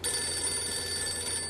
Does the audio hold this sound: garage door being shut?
no